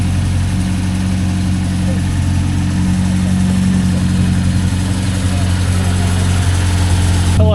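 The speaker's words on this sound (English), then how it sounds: "It's just that, you know, classic carburetor warm up in the morning." A classic carburetted car engine warms up at idle on a morning at a Kuala Lumpur car show, a loud, steady, even rumble that holds without revving.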